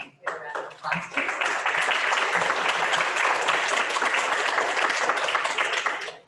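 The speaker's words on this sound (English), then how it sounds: "a round of applause, please" An in-person audience applauds after a lecture on chronic central neuropathic pain following spinal cord injuries: sustained, even clapping from many hands that builds quickly and holds steady until the end.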